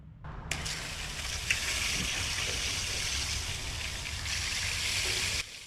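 Hot water from an instant water heater in a van gushes out of the tap in a steady, close hiss, starting abruptly and cutting off sharply after about five seconds.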